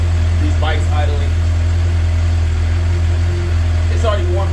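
A warmed-up 2012 Suzuki GSX-R750 motorcycle with an M4 slip-on exhaust idles steadily, a loud, even low throb with a constant hum beneath, as someone speaks briefly over it at the start and end.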